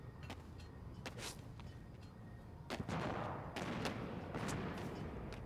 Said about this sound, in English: Oh, your gun sounds so different.